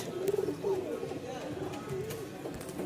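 A pair of pigeons, sabji dobaj birds offered for sale, coo softly and steadily at close range while someone talks over them.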